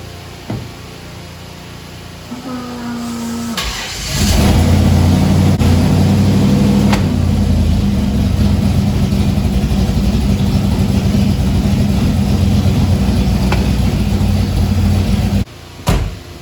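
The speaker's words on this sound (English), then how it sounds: "we're gonna fire it up, see if the wheels spin when I put it in gear" A Ford Mustang cranks and fires up, then settles into a steady loud idle close by, running in gear for several seconds before a brief knock near the end.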